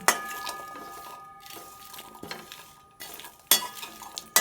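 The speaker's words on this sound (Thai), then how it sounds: "คั่วไปอย่างนี้จนจนเขาหอมดีนะคะ" Thai seasonings for a black lingzhi mushroom tom khlong soup dry-roasted in a pan over low heat, with repeated scraping and clinking of a metal utensil against the pan in bursts and a faint sizzle underneath.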